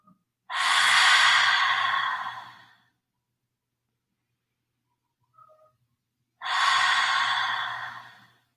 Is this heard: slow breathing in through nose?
yes